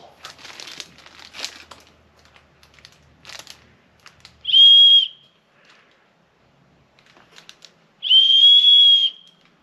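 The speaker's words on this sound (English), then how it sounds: "that whistle sucks." A whistle is blown twice in loud, sustained shrill blasts, separated by rustling and crinkling handling noises.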